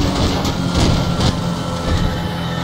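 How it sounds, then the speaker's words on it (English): A train thunders past in the racing game Need for Speed The Run, a loud, steady rumble and rattling clatter filling the whole stretch with no voices over it. "Oh my god! That's a train!"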